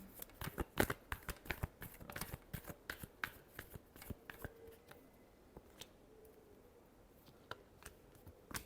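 Tarot cards are shuffled close by in quiet surroundings, a run of crisp riffling snaps and slaps that are dense at first and then thin into scattered taps.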